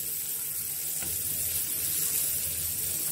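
Modka white bait fish fry in hot oil in a pan with a steady, bright sizzle that carries on evenly throughout, broken by one faint clink near the start and no talking.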